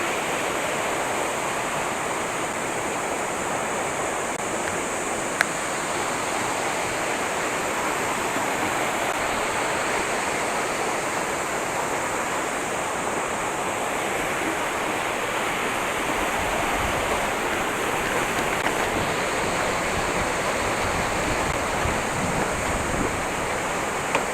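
Clear river water rushes over rocks at Tinipak, a steady, loud, broadband roar that continues without break for the whole stretch.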